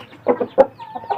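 Chicken clucking in short bursts, a recovering thin chicken being fattened, close and fairly loud, several separate calls with brief gaps between them and no talk.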